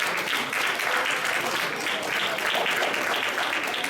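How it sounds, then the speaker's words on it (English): An audience applauds steadily at a Black History Month commemoration evening, dense clapping from many hands sustained at even loudness throughout, with no voices on top. "Let's give her a big round of applause"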